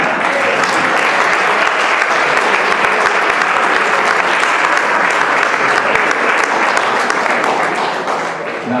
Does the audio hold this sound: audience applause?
yes